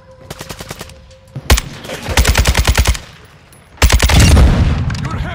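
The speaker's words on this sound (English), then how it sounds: "I shot him point blank in the heart with the shotgun" Shotgun fire in Modern Warfare II: loud, close blasts in rapid rattling bursts, then a final heavy boom with a lingering rumble, with a faint voice briefly underneath.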